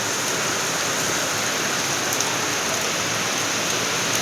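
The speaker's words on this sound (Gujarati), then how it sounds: "આવે જ ને મસ્ત વરસાદ." Heavy monsoon downpour pours in a dense, continuous roar of rain close by, steady and loud for the whole stretch with no voices.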